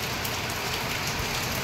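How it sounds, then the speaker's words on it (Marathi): Heavy rain pours down in Mumbai, a dense steady hiss of drops drumming on surfaces nearby, loud and unbroken with no voices. "बघा, भयंकर पाऊस पडतो."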